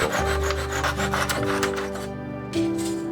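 A handsaw cuts a 45-degree end on leftover window-frame trim wood, already coated with persimmon tannin stain, in rapid, rhythmic rasping strokes that are close and loud over a steady tonal background.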